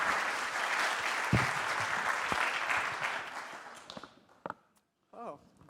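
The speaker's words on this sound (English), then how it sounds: "Please welcome them with an applause." Audience applause greets speakers walking onto the stage at the opening ceremony of a European health tech event in Paris, a dense steady clapping that thins and dies away into a few scattered claps near the end.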